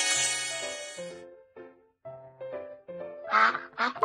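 Over a simple, tinkling melody in a BabyBus children's video game, a few nasal duck quacks burst out near the end, loud and close together.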